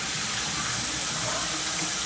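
A bathroom faucet runs water in a loud, steady, close rushing stream that fills the whole stretch, with no voices over it.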